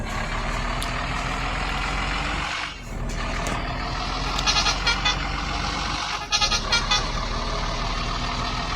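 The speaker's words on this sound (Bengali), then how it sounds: "ও ভাই ট্রাক গেল" A heavy truck rumbles past in the Indian trucking game Truck Master India, with a continuous loud engine drone, brief dips, and a few short clattering bursts, without talk.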